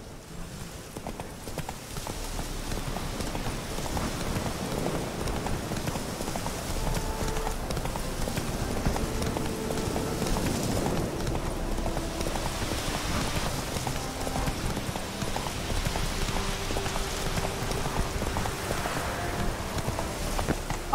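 Hoofbeats from the horse Roach in The Witcher 3, a steady clip-clop of hooves running over a continuous bed of rain and game ambience, with musical tones drifting underneath throughout.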